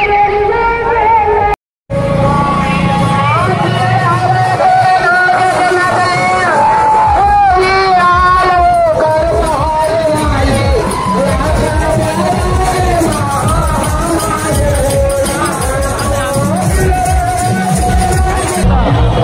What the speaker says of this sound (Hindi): देखो श्रद्धालु मन के संगवारियों कितना भीड़ लगे हुए हैं